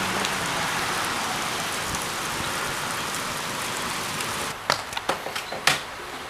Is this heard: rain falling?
yes